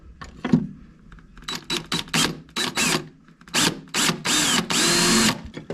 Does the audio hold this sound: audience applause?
no